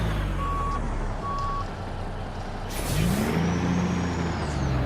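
A truck in American Truck Simulator reverses with two evenly spaced backup beeps, then an air brake hisses, all over a steady loud engine rumble and no talk.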